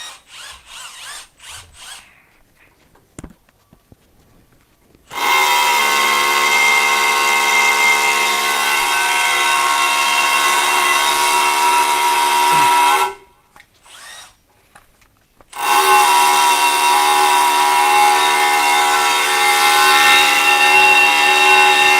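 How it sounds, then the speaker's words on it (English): Makita rotary hammer drilling into concrete in two long, loud bursts of steady whining, hammering drive, separated by short pauses with faint handling noise and clicks. "So when you need faster drilling in concrete, for sure you need to choose a rotary hammer."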